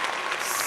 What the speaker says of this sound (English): I want to take a moment for us to stop and applaud